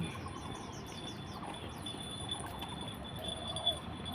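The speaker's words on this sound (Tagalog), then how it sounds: "Yung mga ibon dyan." Birds chirp in a tree-filled park, short repeated tweets and faint calls over a soft, steady outdoor hum, with insect buzz in the background and no voices.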